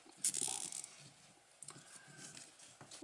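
Nylon wire tie ratcheting tight through a motor bracket on a Makerfire robot car chassis kit, a quick close burst of clicks at the start and a softer zip later, with quiet pauses between.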